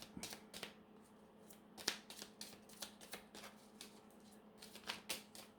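Cards being handled and drawn from a deck during a tarot-style reading, giving a run of crisp, quiet flicks and snaps at an irregular rhythm with no talking.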